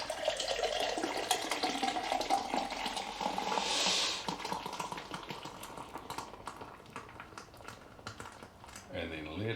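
A Pelvis Nitro Pastry Stout, 10.2%, pours vertically from a can in a continuous foamy gush of liquid. It swells briefly midway, then tapers into settling fizz, with faint sounds near the end.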